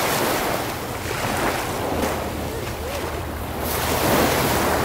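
Ocean waves wash onto a cold Cape Cod beach, a broad rolling surf roar with gusting wind buffeting the microphone, swelling louder near the end.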